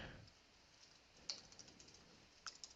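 Scattered, light keyboard clicks tap out in short bursts against a quiet background, close by and fairly faint.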